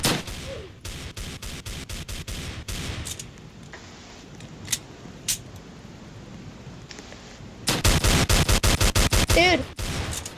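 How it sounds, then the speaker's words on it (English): Gunfire rings out in Roblox Redwood Prison, a video game: rapid repeated shots in two sustained bursts with a few isolated cracks between, close and loud, and players talking in the background. "Why are you shooting in here?"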